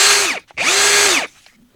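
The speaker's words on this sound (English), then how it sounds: "2-speed drill." A Milwaukee 2-speed cordless drill whirs loud and close in two short bursts, each spinning up, holding a steady pitch and winding down, with a brief pause between and a quiet tail after.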